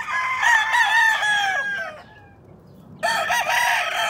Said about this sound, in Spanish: Muy fina esta gallina